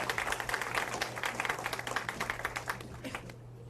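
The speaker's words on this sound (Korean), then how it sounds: "여러분 큰 박수로 맞아주시기 바랍니다" An audience claps to welcome a bank CEO taking the stage for a lecture to university students, the applause dense and steady for several seconds before thinning out near the end, with a low hum underneath.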